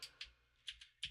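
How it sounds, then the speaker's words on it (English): A few quick keystrokes on a computer keyboard, four or five light clicks in about a second, faint and close with no talking. "hold on, I'm just typing"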